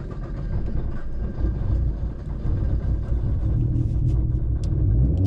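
A car engine idles and runs shortly after a cold start, a steady low rumble filling the clip at close range with no talking.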